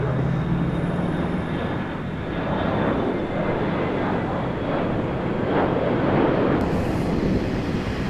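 An airplane taking off at Montego Bay airport in Jamaica, its engines roaring loudly and continuously with a pulsing, rumbling thrust, with light wind buffeting the microphone.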